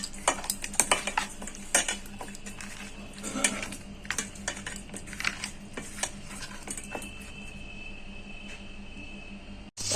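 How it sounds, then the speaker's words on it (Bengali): Salt and turmeric being rubbed into pieces of tangra fish in a bowl, heard as close, irregular clinks and soft wet handling sounds scattered through a quiet kitchen, with a faint steady hum underneath. "এবার আমি নুন হলুদটাকে মাখিয়ে নেবো মাছগুলোকে"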